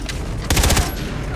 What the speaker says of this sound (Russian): Это больше на какой-то пистолет-пулемет похоже